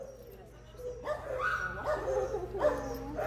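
A nervous rescue dog in a kennel gives a few soft, high whimpers and yips, faint and close, in short bursts separated by quiet pauses.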